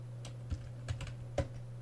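A few separate keystrokes clack on an old 6502-era computer keyboard, quiet and close, over a low electrical hum.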